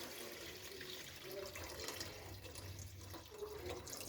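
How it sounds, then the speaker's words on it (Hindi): One litre of milk is poured into cooking carrot halwa, a soft continuous liquid rush and splash, faint and steady for the whole stretch without speech. "ये दूध मैं इसके अंदर अब ऐड करने लगी हूँ।"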